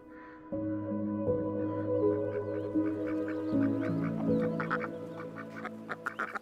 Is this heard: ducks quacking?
yes